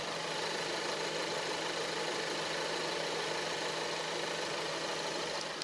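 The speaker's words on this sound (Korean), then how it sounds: "바로 엔진 소리 한번 들려드릴게요." A used car's engine idles steadily with the air conditioning running, a smooth, even, quiet hum with a faint low drone, heard close by the open engine bay, with no talk.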